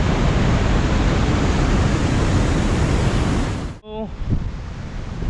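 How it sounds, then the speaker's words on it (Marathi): Water pours over a small dam on the Indapur-Pali road in a loud, steady roar of rushing flow. Near the end the roar cuts off abruptly and a quieter, closer flow follows. "पाण्याचा फ्लो बघू शकता तुम्ही"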